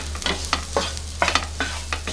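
Vegetables being stirred and sautéed with masala in a pan for a restaurant-style veg curry: a steady sizzle with repeated scraping stir strokes about every half second.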